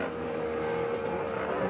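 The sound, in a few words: race car passing at Simararing Debrecen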